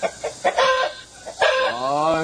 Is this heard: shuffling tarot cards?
no